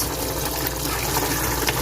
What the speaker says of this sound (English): So I'm going to allow this water to dry out, to cook out